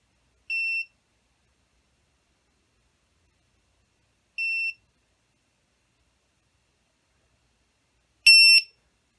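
Three short, high electronic beeps from a VIFLY Finder V2 self-powered drone buzzer sound alone in silence, spaced a few seconds apart, the last one louder and harsher.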